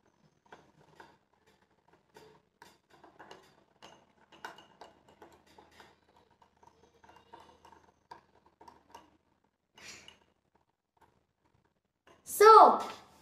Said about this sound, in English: Now we will stir it.